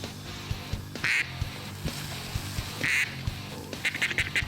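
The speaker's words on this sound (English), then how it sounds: "Look at all the ducks coming at us." Ducks quack in short loud bursts at a Devils Lake, North Dakota waterfowl hunt, a few clustered calls against quiet outdoor background with faint thumps.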